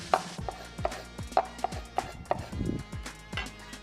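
Knife dicing red onion on a cutting board, a quick series of light, crisp taps in an uneven rhythm, close and quiet, with no voices.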